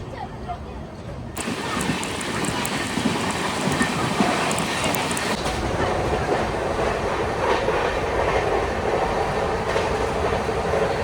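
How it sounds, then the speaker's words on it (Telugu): A moving passenger train rumbles steadily on the tracks between Bhopal and Bina Junction, India, with a dense, continuous roar and faint clatter, heard from inside a carriage. "మన ట్రైన్ అయితే భోపాల్ నుంచి కూడా స్టార్ట్ అయిపోయింది"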